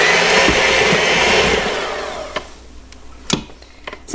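A kitchen mixer or blender on low speed whirs loudly while shredding cooked chicken for white chicken chili, a steady motor drone that cuts off midway, leaving scattered clicks and knocks of the bowl afterward.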